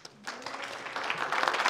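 Library audience clapping to welcome a guest presenter, a dense burst of applause that swells and holds steady, filling the room for under two seconds.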